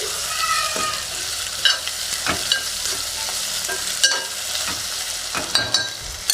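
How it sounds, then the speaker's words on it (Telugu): Ginger garlic paste is fried and stirred in a pan, a continuous close sizzle broken by repeated spatula scrapes and taps, with no voices. "అల్లం వెల్లుల్లి పేస్ట్ వేసుకొని బాగా కలుపుకోవాలి."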